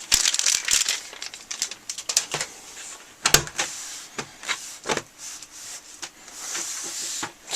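Simcoe hop pellets being dumped into fermenting beer for dry hopping, a dry crinkling, rustling patter of bursts with sharp plastic-bag crackles, close and fairly loud.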